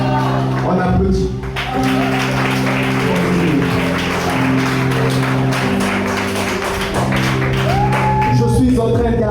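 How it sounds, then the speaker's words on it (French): An audience claps and applauds at a slam poetry café, a steady, loud wash of clapping lasting several seconds, with tonal background sounds running underneath. "On applaudit."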